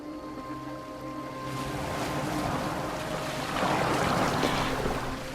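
A boat in Assassin's Creed Valhalla glides across open water, a steady rushing wash of waves and wind that swells louder toward the end, with no voices.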